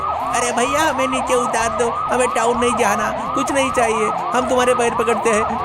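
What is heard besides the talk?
police siren sound effect in an audio story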